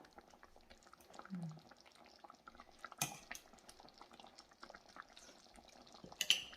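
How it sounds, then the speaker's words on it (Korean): Turmeric curry simmering in a pot, faint soft bubbling and popping with occasional utensil clinks, quiet and close. "카레가 지금 보글보글 잘 끓고 있죠?"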